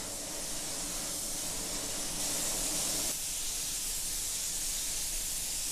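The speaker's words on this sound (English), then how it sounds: "I'm using the 4000 series base coat sealer dark with no reducer, and I'm going to apply 2 or 3 light coats." Steady hiss of a spray gun laying light coats of a dark base coat sealer, applied without reducer, on a car body panel, continuous and close with a slight shift partway through, no talking.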